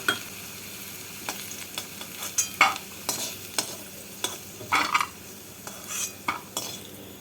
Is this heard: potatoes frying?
yes